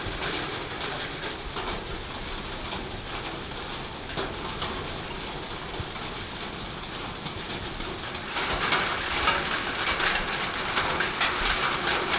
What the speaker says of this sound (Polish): właśnie teraz zaczął padać deszcz